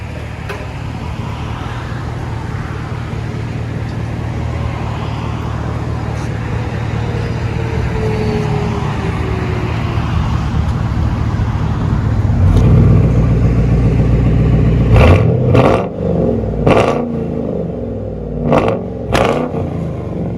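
A 2004 Ford Crown Victoria Police Interceptor 4.6L V8 with true dual exhaust and muffler delete idles with a deep, steady, close rumble, then gives several sharp revs in quick succession near the end.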